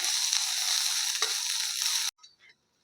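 Bitter gourd peels roasting in a pan give a steady, close sizzle for about two seconds, then it abruptly cuts out, leaving a couple of faint clinks in near silence.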